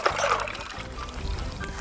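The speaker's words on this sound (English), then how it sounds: "Okay, so I'm just gonna pour this in." Brine poured from a container over pork chops in a kitchen, a brief splashing trickle of liquid that settles into a softer dribble, close and fairly loud.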